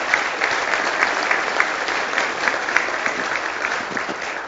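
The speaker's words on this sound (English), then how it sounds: "Please join me in a round of applause thanking these companies." Steady audience applause at a leadership breakfast, many hands clapping in a dense, even wash of moderate loudness, with individual claps standing out now and then and no talk.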